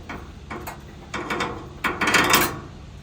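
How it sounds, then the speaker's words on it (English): Screws being loosened on a FocusInc Starfire-62U roll-to-roll UV DTF printer, a few short close ratcheting clicks and metallic turns in quick bursts, fairly quiet. "We release the screw"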